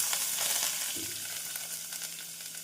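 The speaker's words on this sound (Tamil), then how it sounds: "நறுக்கிய வெங்காயத்தை சேர்த்துவிடுவோம்" A constant loud sizzle of chopped onions frying in hot oil for brinjal curry, with a brief stirring scrape partway through, close up and continuous.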